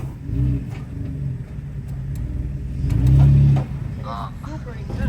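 An off-road vehicle with its bumper dug into desert sand revs its engine in a low, steady rumble that swells louder for a moment, with people talking over it.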